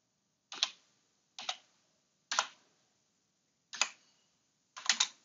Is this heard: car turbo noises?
no